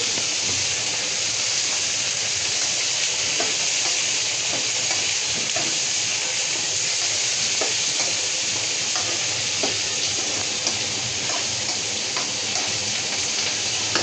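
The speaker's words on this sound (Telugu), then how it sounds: "మిరపకాయలు మంచిగా దూరగా ఎగేదాకా వేగించాలి" Dried red chillies fry in a pan alongside peanuts, giving a steady dense sizzle with faint crackles and occasional stirring scrapes, continuous and close.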